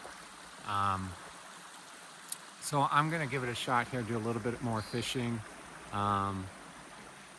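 A small creek beside a campsite flows with a steady, soft rushing hiss beneath someone talking close by throughout.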